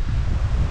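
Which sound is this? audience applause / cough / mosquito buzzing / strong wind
strong wind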